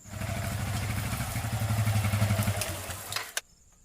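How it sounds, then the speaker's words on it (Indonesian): A traveling vendor's motorbike rolls closer with a steady mid-pitched engine putter that holds loud and near for about three seconds, then cuts off abruptly into near silence. "Asa heueuh asa motor bang keliling euy."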